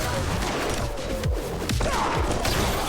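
Shotgun blasts in the video game Mullet MadJack during a fast speedrun, several heavy booming shots landing among dense, loud game action and explosions with a constant roar of effects.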